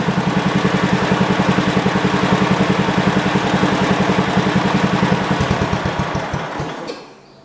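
A 1971 Project 110 tractor engine idling up close with a steady, rapid chugging pulse that holds evenly, then slows and sputters to a stop near the end.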